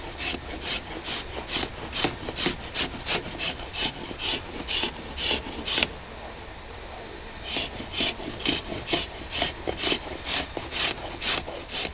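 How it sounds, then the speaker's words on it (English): Squared spine of a machete planing green wood in a bushcraft setting, a series of rhythmic scraping strokes close up, with a short pause midway before the strokes resume. "What I'm using is the squared off spine of the machete blade. Makes a very effective planer."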